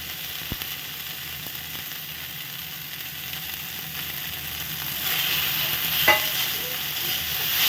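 Maggi noodles with Maggi masala fry and are stirred in a pan, a soft continuous sizzle with occasional scraping clicks that grows somewhat louder toward the end; no voices.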